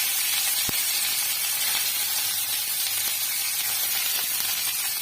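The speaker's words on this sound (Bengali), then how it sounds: "আর লঙ্কা এগুলো দিয়ে দিলাম," Onion, garlic and chilli fry in hot oil over a cumin tempering, giving a loud, continuous close-up sizzle with an early sharp tick and no talking.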